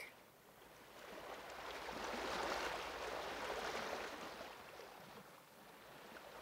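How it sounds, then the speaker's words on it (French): Ocean waves wash in a steady, broad hiss, swelling to a fuller surge midway and slowly easing back, alone with no voices, as a calm backdrop for a guided sleep meditation. "Votre souffle merge avec le son des vagues"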